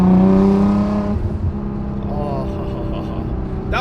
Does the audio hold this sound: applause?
no